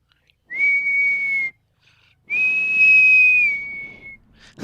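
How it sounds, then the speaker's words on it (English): A person whistles two sustained, steady high notes, the second longer with a slight rise, separated by a short pause, close and clear over faint background hiss in a flight simulator session. "that's me whistling"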